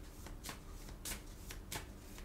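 Oracle cards being shuffled by hand, several crisp riffling bursts with short pauses between them, fairly close and moderately quiet, with no talk.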